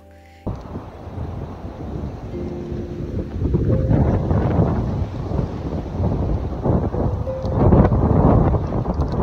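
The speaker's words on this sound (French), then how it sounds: "Le vent s'intensifie." Strong, cold wind beside a lake roars across the microphone in heavy, surging gusts, loud and sustained, with a low rumbling buffet.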